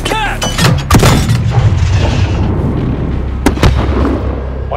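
Dense gunfire and loud blasts crackle through a night battle at an embassy in Call of Duty Modern Warfare, with sharp shots, booming impacts and shouting voices mixed into the chaos.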